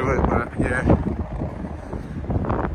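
Wind buffeting a microphone on a pedestrian walkway of the Benjamin Franklin Bridge in Philadelphia, a loud, steady low rumble throughout with a voice speaking over it.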